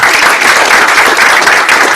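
Steady, loud applause from a hackathon audience honoring a presenting team at a final-presentations event, a dense continuous wash of clapping filling the whole stretch with no break.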